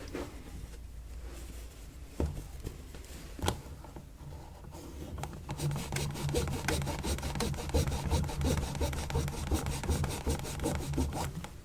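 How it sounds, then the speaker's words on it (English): Dirty Vans shoes scrubbed with a cloth and a drop of cleaning agent, a steady close rubbing and brushing that turns continuous and dense in the second half after a few sparse strokes. "Put 1 or 2 drops on your cloth and give it a good scrub"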